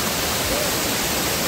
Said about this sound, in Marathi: सगळ्यात मोठा धबधबा रस्त्याला लागलेला आहे